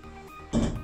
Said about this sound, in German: So, wir machen jetzt mal die Tür zu.